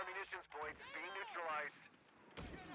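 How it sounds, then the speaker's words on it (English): Heavy 75mm tank gun fire in Company of Heroes 3, a close booming blast near the end of a brief stretch with a caster talking excitedly over the game audio. "75mm blasting the church there"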